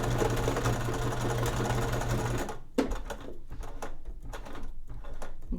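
A sewing machine stitches a simple cinch pouch, running steadily and loudly for about two and a half seconds, then giving a few short, separate bursts of stitching and clicks as the last stitches are worked.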